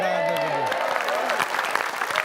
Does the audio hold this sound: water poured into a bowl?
no